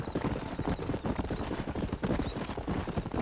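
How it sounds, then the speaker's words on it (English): Horse hooves pounding at a gallop during a horse race in the video game Red Dead Redemption, a rapid, continuous clip-clop rhythm of several horses running together with faint whinnies mixed in. "horse racing."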